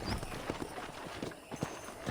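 Horse hooves clip-clop at a walking pace on a ranch in the video game Red Dead Redemption, the steady, evenly spaced thuds moderately close and fairly quiet, with no speech.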